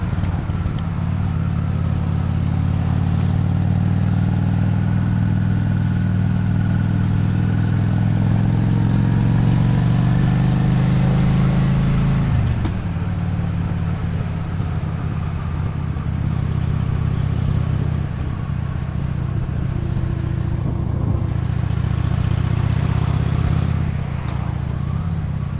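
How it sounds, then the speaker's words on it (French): A Honda Shadow VT 600 motorcycle on a ride, its engine a steady, loud low drone that swells and shifts pitch midway as it changes speed, with wind rumble and no talk. "Moi ça fait plaisir ce petit tour en moto."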